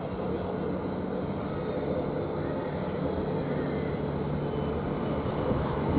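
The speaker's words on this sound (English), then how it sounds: "we've got another train coming, not what I expected, but it's the Norwich to Stansted Airport one" The Norwich to Stansted Airport train draws into Ely station, a steady broad rumble with a faint high whine, holding at an even level throughout with no voices.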